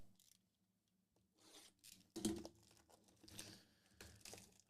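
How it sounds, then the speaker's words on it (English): Foil trading card pack wrappers for Select Baseball and Bowman Chrome being ripped open and handled up close, quiet crinkling and rustling with a few sharp tearing bursts, no talk. "we're going to rip this and shuffle up the packs"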